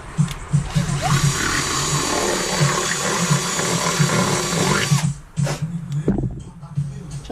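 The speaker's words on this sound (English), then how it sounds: "take a drill." A power drill whirs steadily for about five seconds, enlarging a hole in an aftermarket carbon fibre mudguard for a Yamaha R6, then stops, leaving a few clicks and handling sounds.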